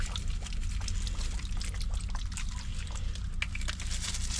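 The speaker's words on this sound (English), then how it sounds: "And we've got some soy light. I'll put some of that in." Light soy sauce is poured into a dish, a soft continuous trickle and light splashing against a low steady background hum, close and quiet.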